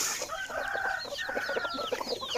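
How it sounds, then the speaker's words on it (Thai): Several chickens cluck and chatter close by at a Thai home, with overlapping bird calls and a brief crow-like note running continuously without speech. "นี่ก็เป็นไก่เขา"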